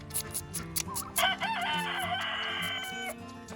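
A rooster crows loudly and close, a long drawn-out call over other hens clucking and farmyard chatter.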